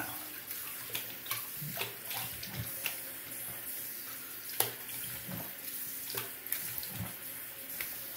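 Tap water runs steadily into a sink while a face is rinsed after a wet shave with a Semogue 1250 boar-bristle brush and a razor, splashing and pattering in irregular bursts at close range, with no talk.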